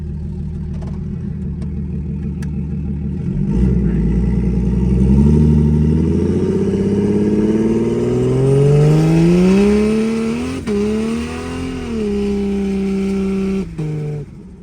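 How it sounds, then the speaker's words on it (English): A Jeep accelerates hard from close by with its tires spinning, the engine note climbing steadily and revving loudly for several seconds before easing and dropping off. "Spun the tires that whole time."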